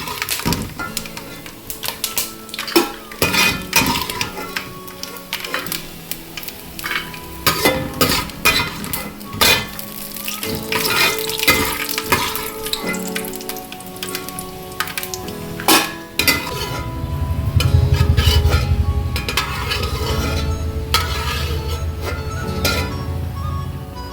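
A spatula scrapes and clatters against a pan as golden roasted coconut is moved onto a plate. The taps come close and busy, then ease into a softer rustle near the end.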